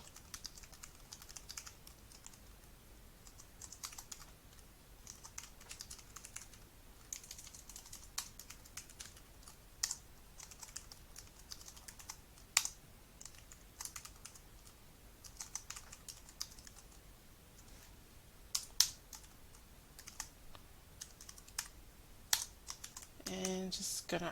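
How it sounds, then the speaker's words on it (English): Typing on a computer keyboard while entering text, with irregular bursts of close, crisp key clicks and a few louder keystrokes, quiet and steady over about twenty seconds. "I'm just going to type something here."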